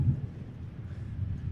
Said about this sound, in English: I actually wasn't expecting it to be this windy.